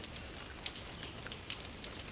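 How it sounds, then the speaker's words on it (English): Light, steady rain falls outdoors by a chicken coop as a soft even hiss with faint scattered patter, quiet and continuous with no voices. "yes, we are getting rain. Nice slow stuff"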